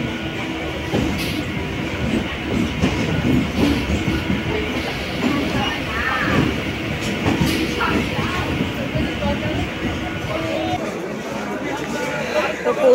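A commuter train rolls into Sealdah railway station in Kolkata, a steady rumble of wheels and carriages with faint rhythmic clatter under continuous crowd chatter and nearby voices.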